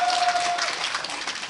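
Audience applause at a business presentation, a brief burst of steady clapping from a room of listeners, moderately loud with no talk over it.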